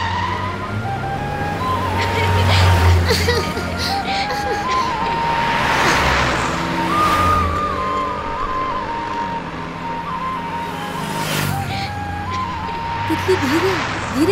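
A car drives along under a film scene, its engine and road noise running steadily for the whole stretch while several people talk and call out over it.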